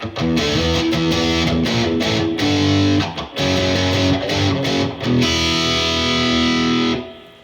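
An electric guitar played through a Boss ME-80 with a heavy metalcore distortion patch into a 1968 Fender Deluxe Reverb amp chugs out loud, tight riffs with short muted gaps between bursts before ringing out at the end.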